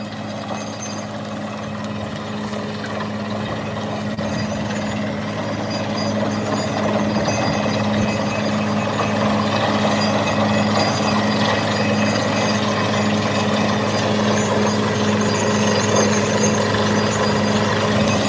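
A high-pressure borewell drilling truck running at a borewell site, a loud continuous engine drone with a steady low hum and mechanical rattle that swells slightly after the first few seconds, no talk.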